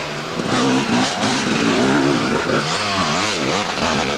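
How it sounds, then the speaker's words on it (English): Husqvarna 260cc enduro motorcycle at a two-day enduro event in Rhayader, its engine revving loudly and continuously close by, pitch rising and falling as it accelerates and eases off. "Here's Derek Edmondson on his 260cc Husqvarna."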